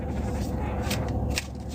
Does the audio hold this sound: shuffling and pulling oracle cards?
yes